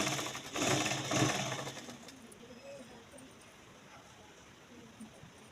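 Sewing machine running loose temporary basting stitches on a kurti, a fast buzzing mechanical whir in two short bursts up front, then fading to quiet background hum.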